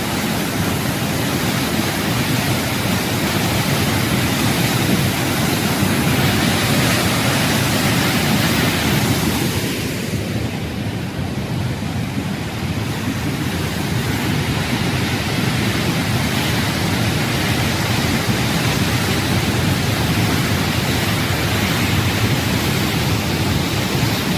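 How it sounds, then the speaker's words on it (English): Waterfall pouring out of a little tunnel in a mountainside near the Flåm railway, a steady broadband rushing roar that holds evenly throughout with no voices. "seeing a waterfall coming out of a mountain, out of a little tunnel"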